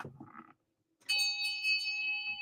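After a brief sound and a moment of silence, a bright bell rings out with a sustained, shimmering tone that lingers near and clear.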